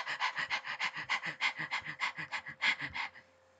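A human voice imitates rapid panting breathing, about a dozen quick, even in-and-out breaths close to the mic, alone and stopping abruptly.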